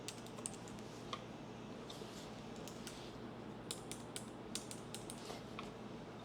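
Computer keyboard typing during online business registration, with sparse, irregular keystrokes and small bursts over a steady background hum, fairly faint and close, no talking.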